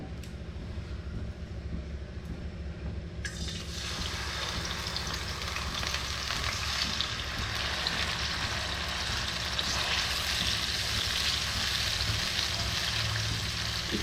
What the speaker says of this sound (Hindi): इसको भून लेंगे।